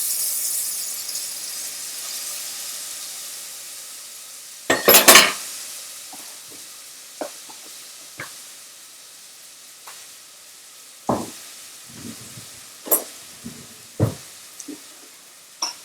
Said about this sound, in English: We're going to start frying it up.